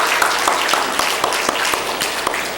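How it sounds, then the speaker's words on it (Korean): A church congregation gives a loud round of applause in thanks and praise during a service, a thick, steady clapping with distinct individual claps popping through close by. "우리 하나님께 감사의 박수, 영광의 박수 한번 다시 한번 크게 올려드리겠습니다."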